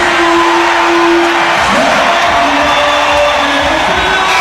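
Crowd noise fills a basketball arena during Game 2 of the WNBA Finals with about ten thousand fans present, a steady loud roar of cheering and whoops with no break.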